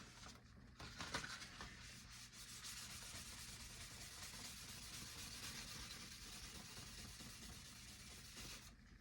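1000 grit sandpaper rubs steadily along a raw, unfinished maple neck of a Squier Telecaster, a close, continuous soft scratching sound that runs unbroken with no talk.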